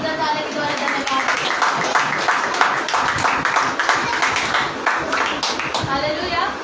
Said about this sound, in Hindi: हम क्यों ना परमेश्वर को जोरदार ताली के द्वारा धन्यवाद।